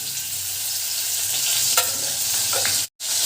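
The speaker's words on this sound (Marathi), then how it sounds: "आता यामध्ये आपल्याला एक अर्धा चमचा अद्रक लसूण पेस्ट टाकून द्यायची" Ginger garlic paste sizzles in hot oil for soya chilli, a constant close hiss with a couple of light stirring scrapes and a sudden brief cut to silence near the end.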